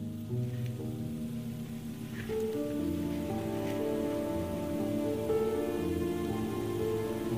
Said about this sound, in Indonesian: hujan semakin reda meninggalkan jejak tetesan air di dedaunan yang basah